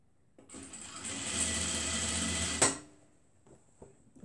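A sewing machine stitches a short seam on a cuddle scarf, a quick burst of motor whir lasting about two seconds, close and fairly quiet, then stopping with a few small clicks.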